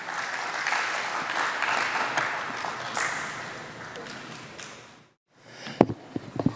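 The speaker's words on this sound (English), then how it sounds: "So let's warmly welcome on stage with a hearty round of applause, Dr. Surujrattan Rambachan." An audience applauds to welcome a speaker onto the stage at a Mahatma Gandhi memorial lecture, with steady dense clapping for about five seconds before it cuts off, followed by a few faint knocks.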